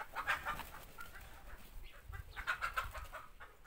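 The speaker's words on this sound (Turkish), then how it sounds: "Arkada da horoz bir tanesi o yeni tavuklardan birini kovalıyor herhalde, bağırınıyor öyle." Chickens squawk and cluck in agitated bursts, a little distant, as a rooster chases a newly added hen, amid faint background noise.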